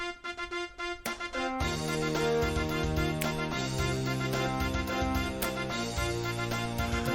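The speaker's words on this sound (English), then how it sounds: "No, that's the sound of the horns." Loud brass horns blare in sustained, layered chords, opening with a few short blasts before a full, continuous fanfare swells and holds.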